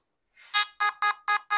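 A metal detector's synthetic electronic tone for gold beeps five times in a quick, even rhythm, each pulse bright and buzzy, close and clear with no talking.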